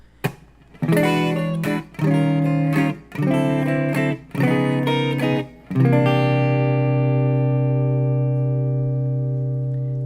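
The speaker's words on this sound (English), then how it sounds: "So these are descending 9 chords, and we're adding the 13 to it." Five strummed descending ninth chords with added thirteenths on guitar, each cut short and stepping downward, then a final chord left ringing out and slowly fading.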